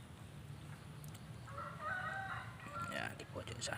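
Hens in a backyard chicken coop kept for composting give soft clucks and short calls over a steady low background hum, growing a little louder midway and carrying on to the end.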